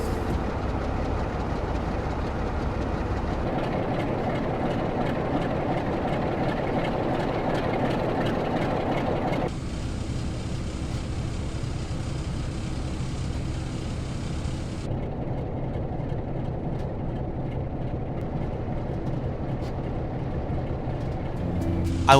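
Diesel locomotive idling and cab ambience in a Train Sim World West Coast Main Line Crewe–Preston route, a continuous low engine rumble with shifting tonal hums as the sound changes between sections, loud and steady throughout.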